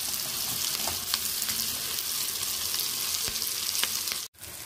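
Capsicum and onion sauté in a hot pan, a steady close sizzle running throughout with a few faint stirring scrapes and a brief dropout near the end.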